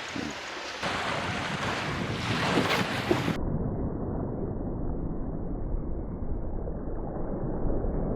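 Strong wind buffets the microphone at a seaside shore-casting spot for flounder, a steady loud roar with gusting rumble and surf-like wash throughout, no voices.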